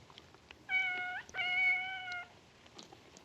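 A cat in the film Godzilla vs. Hedorah gives two clear, drawn-out meows in quick succession, the second longer, over a quiet background.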